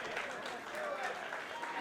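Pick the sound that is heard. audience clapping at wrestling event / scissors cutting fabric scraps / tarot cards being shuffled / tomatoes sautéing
audience clapping at wrestling event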